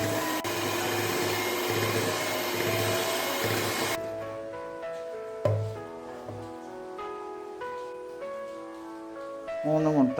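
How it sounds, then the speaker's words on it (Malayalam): An electric mixer beats cupcake batter with a loud, steady whirring drone for about four seconds, then cuts off, leaving quieter kitchen sounds and light clinks. "ആദ്യം ലോ സ്പീഡിലിട്ടിട്ട് പിന്നെ നമുക്കൊന്ന് ഹൈ സ്പീഡിൽ ഒരു 3 മിനിറ്റെങ്കിലും ബീറ്റ് ചെയ്യണം."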